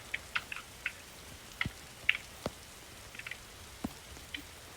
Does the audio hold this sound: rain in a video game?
yes